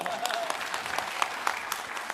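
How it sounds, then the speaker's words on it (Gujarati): Audience applause at a live talk event, a short burst of brisk clapping from a crowd, with a voice speaking over it. "જોરદાર તાળી થઈ જાય"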